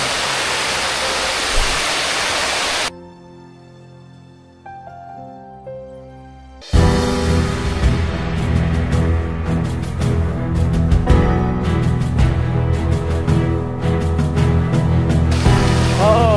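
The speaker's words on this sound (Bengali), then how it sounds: "ঝর্ণায় চলে এসেছি" Loud rushing water of a waterfall in Rangamati, Bangladesh roars at first, then cuts to quiet tones before a dense, bright music-like passage takes over.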